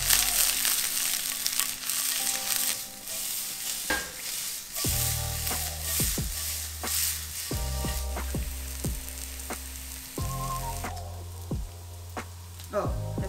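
Shallot frying in hot oil in a pan ahead of sugary fig, a steady close sizzle with repeated stirring scrapes and clicks of a utensil throughout.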